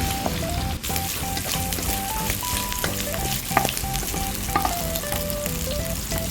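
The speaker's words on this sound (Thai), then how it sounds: "เอาสามชั้นลงไปค่ะ ผัดสามชั้นให้สุกค่ะ" Pork belly stir-frying in a hot pan, a loud continuous sizzle with frequent scraping and stirring clatters from the utensil.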